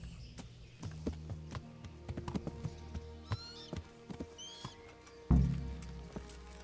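Horse hooves in a medieval horse race in the video game Kingdom Come: Deliverance, scattered soft clip-clop steps at low volume, then a louder thump near the end.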